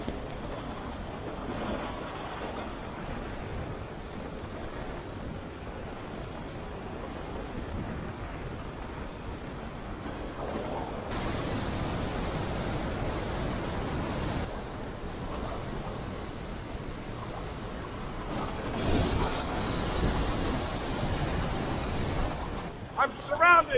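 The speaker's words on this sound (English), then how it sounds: "I'm surrounded by waterfalls on 3 sides." Iguazu Falls at the Devil's Throat, a continuous broad roar of falling water heard up close on a walkway, with gusty wind buffeting the microphone and swelling louder toward the end.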